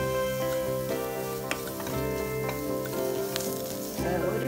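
Spices sizzling in hot coconut oil for a restaurant-style dal tadka with curry leaves and coriander, a steady close frying crackle with occasional stirring scrapes and clinks, no talking.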